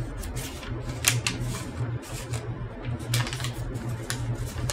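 Paper being pleated while folding an origami hyperbolic paraboloid, with soft crinkling and creasing that runs on steadily and close throughout, plus a few sharper crackles, over a low steady hum.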